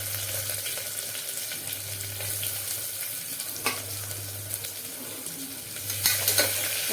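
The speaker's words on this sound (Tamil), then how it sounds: "கொஞ்சம் நல்லா வதங்கிக்கட்டும்" Sliced onions with curry leaves, cinnamon and chillies sizzle steadily in a hot pan, with a few soft scrapes and clinks of stirring near the end.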